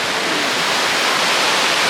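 High surf on an Indonesian beach makes a loud, constant wash of roaring broadband noise up close, with no break or talk.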